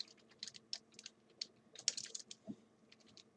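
Fingers type on a computer keyboard in quick irregular bursts of light, crisp clicks and taps, close but quiet, with a short pause and a soft thump partway through.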